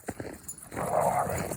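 Dogs fighting outdoors, a sudden harsh snarling scuffle with growls and yelps that swells loud and close after a brief quieter start.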